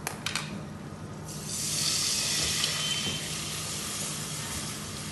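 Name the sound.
pouring broth into a pan with spaghetti and garlic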